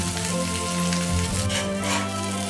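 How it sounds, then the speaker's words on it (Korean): Tofu frying in a four-hole egg pan, a steady, dense sizzle with bubbly crackling throughout and no talk. "2구에도 하나, 3구에도 하나, 4구까지 안전히 올려 구워주면 에그팬 4구에서 맛있음이 고루 익어가고 있습니다"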